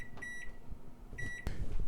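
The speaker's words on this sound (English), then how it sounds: "I'm going to set this timer for 30 minutes" A kitchen timer being set for 30 minutes gives short electronic beeps, two clustered pairs of faint, high tones followed by a sharp click, over quiet room hum.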